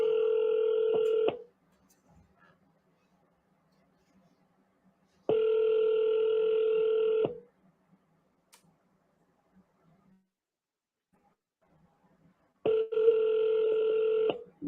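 An outgoing phone call rings unanswered, three long electronic ring tones spaced several seconds apart with near silence between them, clear and close.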